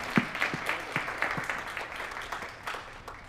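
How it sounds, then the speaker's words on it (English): Audience at a hackathon awards ceremony clapping, a brief round of scattered, rhythmic handclaps from a modest crowd, moderately close and fading. "You guys, give yourselves another round of applause."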